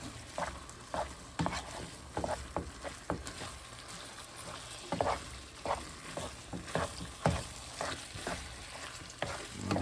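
Ground meat and onions for a wet burrito are stirred in a pan, with a soft steady sizzle and repeated scraping strokes of the spoon, close but fairly quiet and with no talk.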